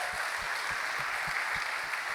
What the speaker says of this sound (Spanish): ¿Cuánto le dan un fuerte aplauso al Señor por esta palabra?